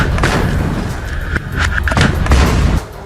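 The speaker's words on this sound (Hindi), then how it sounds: "फिर रॉकेट छोड़ दिया, जिसके बाद जोरदार ब्लास्ट हुआ" Heavy, rumbling blasts over a harsh, constant roar as a rocket strikes an armored vehicle in Khan Younis, Gaza, with a few sharp thuds standing out, loud and close.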